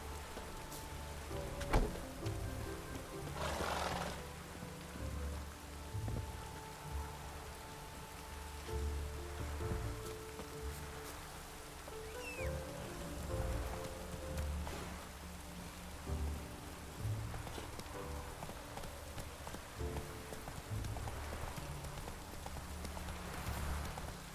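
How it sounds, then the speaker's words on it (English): Rain falls steadily in the fantasy game The Witcher 3, a soft continuous patter with horse hooves clip-clopping and occasional low rumbles underneath. "we'll wait till it stops raining."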